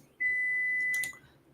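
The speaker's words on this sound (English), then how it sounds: "let me grab this food from this microwave because it's beeping nonstop" A microwave oven gives a single steady electronic beep lasting about a second, clear and moderately loud in a quiet room.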